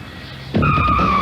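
A Pontiac car in a 1988 television advertisement skids hard, its tires letting out a sharp, sustained high-pitched squeal. The squeal starts abruptly partway through and continues loud to the end.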